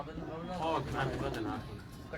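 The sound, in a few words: pigeons cooing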